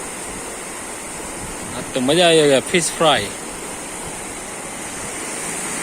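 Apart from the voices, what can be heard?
river water rushing under bridge after heavy rainfall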